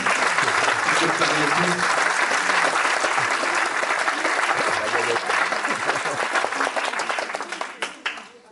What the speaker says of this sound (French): Bon, je crois qu'on peut applaudir Wyatt.